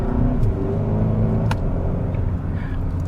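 A 2022 Kia K5 GT performance sedan accelerates hard, its engine giving a loud, steady rumble with building intensity and no one speaking over it.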